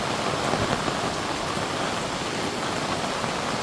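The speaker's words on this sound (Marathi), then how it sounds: "भयंकर पाऊस चालू आहे" Heavy rain pours in a dense, steady roar of drops on surfaces, loud and unbroken with no voices.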